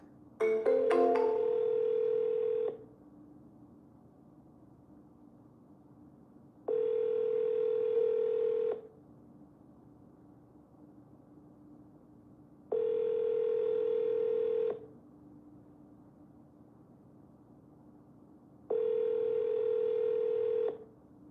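A telephone ringback tone sounds during an outgoing call. A few quick dialing beeps come first, then four evenly spaced two-second rings separated by about four seconds of near silence, clear and close.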